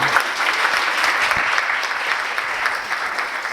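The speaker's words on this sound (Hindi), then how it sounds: "पहले तो आप सभी एक बार वल्लभ के लिए जोरदार तालियां बजाइए" An audience at a poetry event claps for Vallabh, a continuous, even roar of many hands sustained for several seconds without pause or voices.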